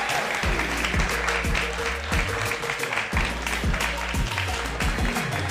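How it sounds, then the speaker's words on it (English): A crowd at the XP League North American esports finals applauds the team, with clapping over a pounding, rhythmic music beat throughout. "Make some noise for the heroes. Come on, give them a big round of applause."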